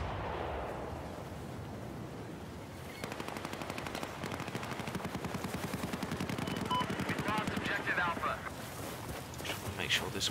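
Burst-fire gunfire in the video game Battlefield 4, rapid volleys of shots rattling steadily over a constant rumbling battlefield backdrop, with a player talking at times.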